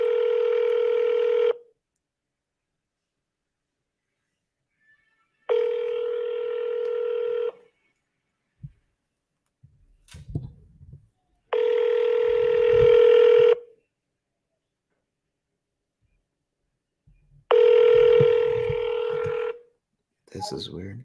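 Outgoing phone call with repeated ringback tones, four long steady bursts about two seconds each separated by pauses, with faint muffled voices and shuffling between rings.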